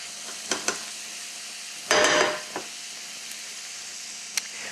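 Garlic sizzling in a pan, stirred with a few brief scraping strokes and one louder burst of sizzle midway, set against a steady quiet frying hiss.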